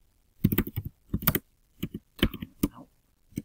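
Typing on a computer keyboard while searching a website: short bursts of crisp key clicks in irregular clusters, close and clear with quiet gaps between.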